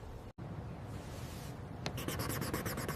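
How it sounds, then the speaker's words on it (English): Pen scratching across paper while signing a document, a steady close scribble filling the clip with a brief gap near the start and a run of quick rhythmic strokes toward the end. "I signed the paper."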